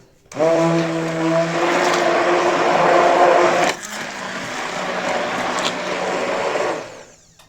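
An electric mixer beats a yeast dough batter of eggs and warm milk for potato-filled doughnuts, whirring steadily and loudly up close, with a brief dip in pitch midway before resuming its continuous drone.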